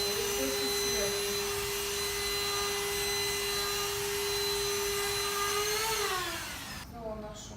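A TINTON LIFE cordless vacuum cleaner runs close by with a steady, loud motor whine that holds for several seconds, then spins down and cuts off near the end.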